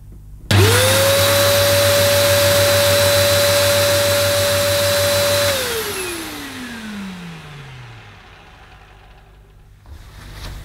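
A Dyson DC03 upright vacuum cleaner switches on with a loud, steady whine and motor roar, runs for several seconds, then winds down as it powers off.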